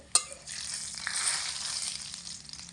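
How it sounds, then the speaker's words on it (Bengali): Dry soybean chunks frying in hot oil give a steady, soft hiss and crackle, fairly close, with a brief clink near the start, and no voices over the sizzle. "শুকনো সয়াবিন ভাজতে কিন্তু বেশি সময় লাগে না"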